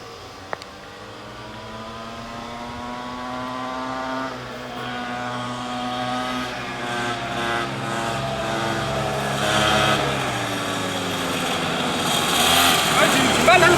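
Small mini motorbike engines race and accelerate, a high buzzing whine rising steadily in pitch and loudness over about fourteen seconds, with several engines overlapping.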